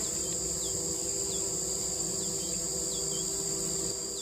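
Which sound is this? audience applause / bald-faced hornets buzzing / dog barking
bald-faced hornets buzzing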